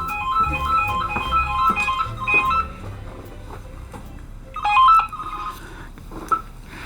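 A telephone rings at a B&B reception, its repeated electronic trilling bursts sounding over a busy background of clatter and faint voices, with one louder ring pulse near the end.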